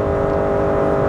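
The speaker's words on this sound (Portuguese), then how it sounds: "vocês devem ter escutado aí que o motor a combustão entrou em funcionamento acelerando" A 2021 Honda Accord e:HEV hybrid's combustion engine running under full acceleration from about 60 km/h, a loud, steady droning hum with a whirring tone and no break.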